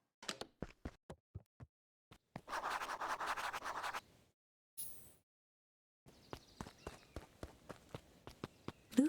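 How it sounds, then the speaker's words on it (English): Footsteps in the video game Beacon Pines, a run of crisp, evenly spaced steps approaching, then a longer scuffling rustle, a brief gap, and a final stretch of quicker, closer steps, with no talking. "Luca heard a group of footsteps approaching."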